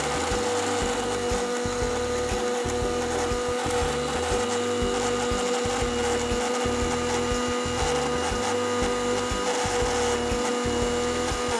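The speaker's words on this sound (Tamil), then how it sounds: "இப்போ நான் இதை அரைச்சி எடுத்துக்கிறேன்." A mixer grinder whirs steadily and loudly as it pulverizes biscuits into fine powder, its motor droning without pause and with a choppy, pulsing low rumble from the blades.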